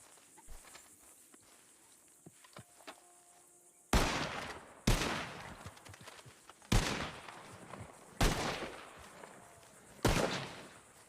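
Pistol shots fired one at a time into a tree in a Wild West roleplay game, five loud sharp cracks spaced roughly a second or two apart after a quieter stretch of faint clicks and footsteps.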